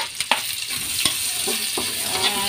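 Onion going into a pan where garlic has already fried golden brown, giving a close, steady sizzle broken by scraping stirs and light clinks of a utensil against the pan.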